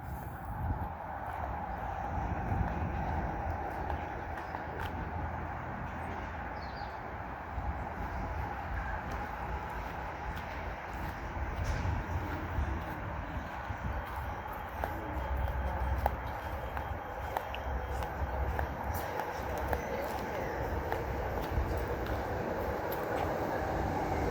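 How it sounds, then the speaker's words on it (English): A Perth Ellenbrook Line train passes on a straight section of track, a steady broad rumble holding near and fairly loud across the whole stretch, with no voices. "Here's our train."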